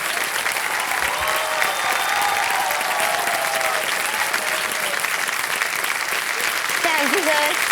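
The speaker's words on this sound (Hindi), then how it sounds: "तालियां बजाएं इनके लिए।" Loud, sustained applause from a television quiz studio audience for a young contestant on KBC India, a continuous wash of clapping with faint voices and cheers mixed underneath.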